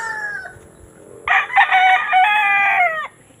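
A fighting rooster, days before a cockfight, lets out one long, loud crow close by, after a fainter call over quiet outdoor background.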